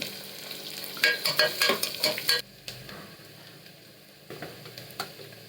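Onion and cardamom fry in a pan with a soft, steady sizzle, broken by a quick run of sharp spatula scrapes and stirring clicks, then a few more later, close and clear with no talk.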